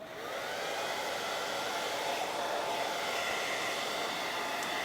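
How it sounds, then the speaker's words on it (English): A handheld blow dryer runs steadily and close, drying fresh paint on a stenciled wooden sign being distressed to look like faux wood; a continuous loud whooshing hum with no talk over it. "I have to dry it with my blow dryer"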